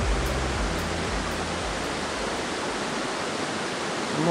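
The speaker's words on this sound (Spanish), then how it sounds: "Estamos full con este río. Está crecido." A swollen, rain-fed river rushing past on a mountain-bike ride in Colombia, a loud, continuous broadband roar of churning water, close and steady throughout with no voices.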